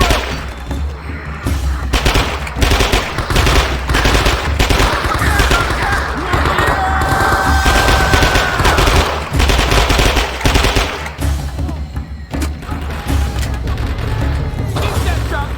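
Gunfire in the World War II shooter game Men of Valor: bursts of machine-gun and rifle shots crackle almost nonstop, loud and close, over a dense battlefield din with a brief tonal whine in the middle.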